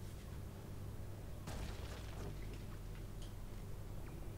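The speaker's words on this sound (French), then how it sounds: "Par contre, c'est vraiment une explosion nucléaire." A nuclear explosion in the video game Saints Row IV, heard as a loud, sustained low rumble with a sharp burst of crackling debris about halfway in, continuing as a dense roar to the end.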